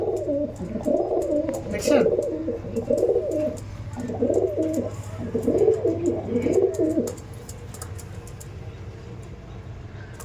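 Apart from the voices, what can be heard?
Madrasi pigeons cooing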